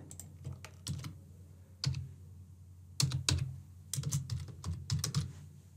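Typing payment card details on a computer keyboard, scattered clusters of crisp close key clicks with short pauses between groups, alone without talk.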